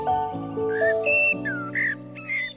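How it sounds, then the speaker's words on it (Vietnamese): Birds chirp and sing in a series of clear, bright whistled notes, several rising and falling calls in quick succession over a steady tonal backdrop, close and fairly loud with no voices. "ngày nào cũng được nghe tiếng chim hót như vậy thật thích"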